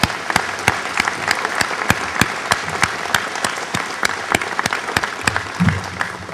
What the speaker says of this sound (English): give me a round of applause for the Air Products team